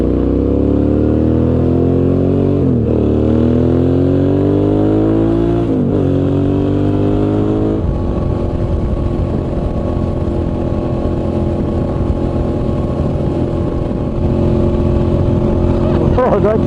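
Suzuki V-Strom motorcycle carrying two up on a road trip, its engine droning steadily with rising and falling pitch as it shifts and accelerates, loud and close under constant wind rush, with riders talking over it.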